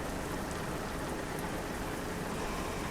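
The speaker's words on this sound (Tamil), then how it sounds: "மழை துளிகள் வருகிறது." Steady rain hisses across the cab of a Volvo truck in Euro Truck Simulator 2, an even, dense wash of drops with no voices over it.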